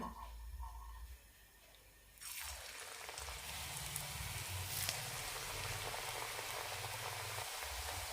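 Semolina murukku dough drops into hot oil after two quiet seconds, setting off an abrupt, loud, crackling sizzle that holds steady and close.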